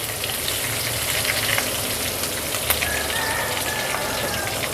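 Green chillies and spices frying in hot oil, a loud unbroken sizzle with scattered crackles and faint stirring, close up with no speech.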